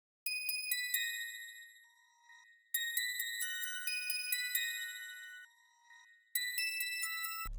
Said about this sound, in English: Then I added a zay bell with some shaper box on it.